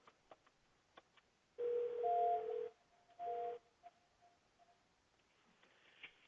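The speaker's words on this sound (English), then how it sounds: "So now when I dial 302," Extension 302 being dialed on a VoIP desk phone: two short electronic tones, one longer and one brief, sound over a quiet background with faint clicks of button presses before and after.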